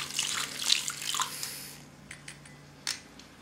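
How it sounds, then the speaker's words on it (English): Borax and vitamin C stirred into water in a container give soft sloshing and splashing with a few light clinks, fairly busy at first, then quieter drips and taps. "Those are water soluble, so we put them in here, and now we stir it up."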